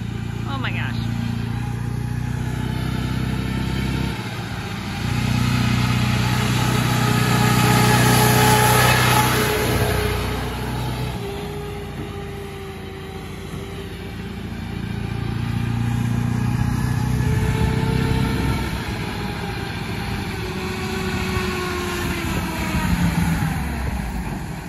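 An old jeep's engine runs steadily and rises and falls as it drives on a dirt outing, with people talking over the motor throughout.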